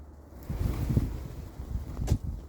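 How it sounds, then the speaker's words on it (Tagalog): Strong wind buffets the microphone in low, rumbling gusts, rising and falling over a couple of seconds. "Mahangin dito ngayon, guys sobrang hangin"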